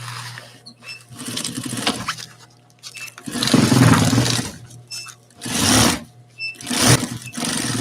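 A sewing machine stitches 1-inch binding tape onto a main seam, running in loud close bursts of rapid whirring separated by short pauses.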